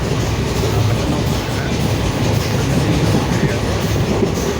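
Local passenger train running between Ariyalur and Villupuram in Tamil Nadu, heard from inside the carriage: a loud, steady rumble with continuous wheel-on-rail clatter and no clear talk.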